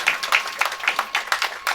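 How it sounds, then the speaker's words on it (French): Audience applause at a sports inauguration ceremony for the swimming federation in the DRC, rhythmic clapping in steady bursts, fairly close and moderately loud, with no talking over it. "Est-ce qu'on peut applaudir très très fortement"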